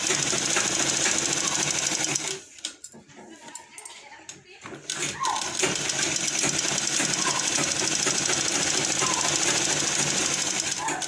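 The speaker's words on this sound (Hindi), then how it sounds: "इस तरह मैं कपड़े को हल्का सा खींचते हुए ऊपर की ओर और एडजस्ट करके इस पर सिलाई चलाऊंगी।" A sewing machine stitches a lined blouse, a loud continuous close-up whirring that pauses briefly and then resumes at a steady pace, with someone talking over it.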